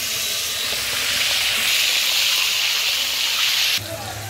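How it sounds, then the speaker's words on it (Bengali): Onions freshly added to hot oil give off a loud, steady, close sizzling hiss that holds continuously, then drops off sharply near the end. "এই যে পেঁয়াজগুলো তেলে দিয়ে দিয়েছি"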